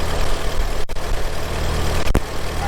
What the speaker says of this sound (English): Alright, I'm gonna let it idle here for a little bit while we fill out this tire